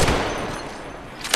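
Weapon fire bursts in Apex Legends Mobile, a loud shot at the start and another at the end with a dense rattling tail between them.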